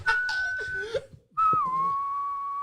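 A person whistles the melody of the Titanic song, clear and close, in two sustained phrases separated by a short pause, with faint background noise underneath.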